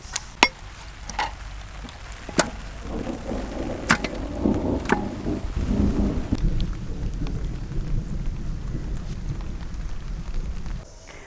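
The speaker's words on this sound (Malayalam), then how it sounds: "ഇടി പൊട്ടുന്നത് കേട്ടാ? ഇടി പൊട്ടുണ്ട്, പെരും മഴ" Heavy rain pours steadily through most of the stretch while several sharp thunder cracks break in near the start and middle, with rolling rumble beneath; the downpour cuts off abruptly near the end. No one speaks.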